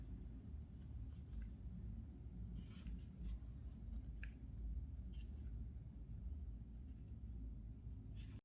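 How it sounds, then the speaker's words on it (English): Scissors cut crochet yarn in a handful of soft, quick snips spread across the stretch, faint against a steady low room hum. "The star is done, just need to cut the yarn and fasten off."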